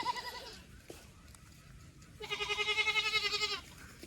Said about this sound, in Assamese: এনেকৈ ছাগলী চিঞৰি থাকিলে কেনেকুৱা লাগে